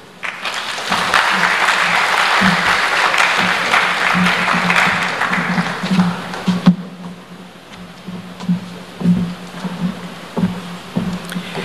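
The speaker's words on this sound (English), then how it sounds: "Let us give Ambassador Azizi Mlima another round of applause for that fantastic presentation" An audience claps steadily after an Africa Day lecture, a dense, sustained round that thins into scattered claps near the end, with a voice faintly under it.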